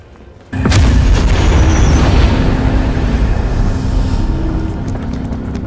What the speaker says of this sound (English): All by firing a missile.